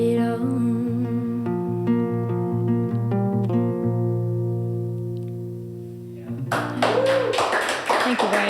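A live audience bursts into applause at a concert in Belfast, the crowd clapping loudly and densely for a couple of seconds as a sustained keyboard chord fades out.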